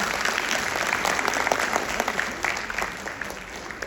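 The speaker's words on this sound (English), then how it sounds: "Let's give him a round of applause." A crowd applauds steadily, dense clapping filling the space at an even level throughout, with no one speaking over it.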